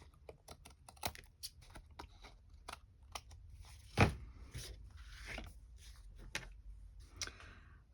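Scissors snip a faux vintage mixed-media craft tag up close, a run of quiet crisp cuts and ticks, with one sharper clack partway through.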